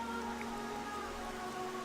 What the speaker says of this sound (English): How's it raining indoors?